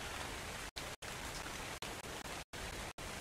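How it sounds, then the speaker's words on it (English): Rain in the video game Ark: Survival Evolved, a dense, steady hiss of downpour broken by a few brief dropouts, loud and alone without talk. "This rain does not help my friends"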